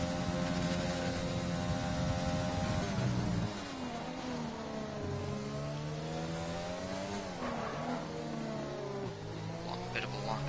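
A racing game's onboard view at the British GP, a race car engine screaming steadily at high revs, pitch sweeping up and down through gear changes and corners, loud and continuous with a commentator talking over it.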